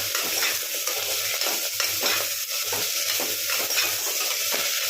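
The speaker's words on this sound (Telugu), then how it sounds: "ముక్కలను అయితే మంచిగా కలుపుకోండి." Drumstick pieces stirred in a pot for Telugu pappu charu, a steady sizzle under repeated close scraping strokes of a spoon against the pan, no talk.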